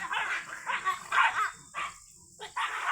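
Small puppies on a farm yipping and barking at one another in quick, high-pitched bursts, close and fairly clear.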